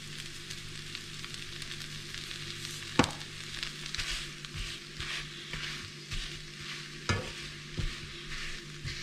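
Refried beans with lard and salt are heated and mashed in a pan, a steady close sizzle with repeated stirring scrapes and a couple of sharp knocks of the utensil against the pan.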